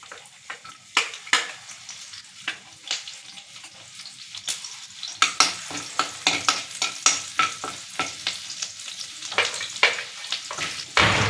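Chopped garlic and ginger sizzle in hot tempering oil for a mushroom Manchurian, a steady close frying crackle broken by frequent sharp stirring scrapes that grow busier toward the end, with no talking.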